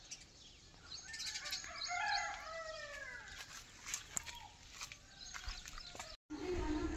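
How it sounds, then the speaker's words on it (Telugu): Birds chirp and twitter around a village home, a busy cluster of calls in the first few seconds that thins out later, with a dog or fowl in the background and a brief cut near the end. "ఆ పిట్టెల సౌండ్ చూడండి"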